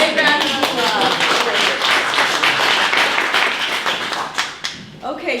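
Audience applause following a talk on optimizing Parkinson's disease care, a dense wash of clapping that fills the room and then thins out near the end, with some voices mixed in.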